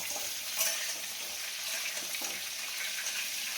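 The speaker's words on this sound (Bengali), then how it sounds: "এখানে ফুলকপি ভাজি হচ্ছে" Cauliflower frying in a pan gives off a continuous hissing sizzle with occasional faint clinks of stirring.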